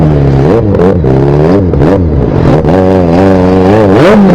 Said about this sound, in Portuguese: o escapamento do XJ.